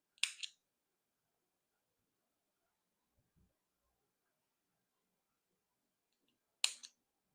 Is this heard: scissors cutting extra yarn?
yes